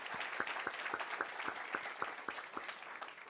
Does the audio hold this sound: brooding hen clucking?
no